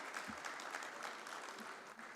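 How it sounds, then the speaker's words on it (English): An audience at a corporate bond market conclave gives a round of applause, a quiet, steady patter of many hands in a large hall. "Please give him a huge round of applause."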